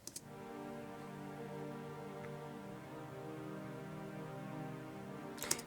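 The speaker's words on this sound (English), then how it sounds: "which was a more grittier synth pad, and that sounds like this" A gritty synth pad from a hip-hop beat holds a sustained, harmonically rich chord that drones steadily with little change, quiet and alone, bracketed by brief clicks at start and end.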